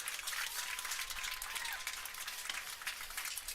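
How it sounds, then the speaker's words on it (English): A baseball game crowd applauds steadily, a dense, even wash of clapping held at moderate distance for the whole stretch, with no voices standing out. "I want to give him a big round of applause"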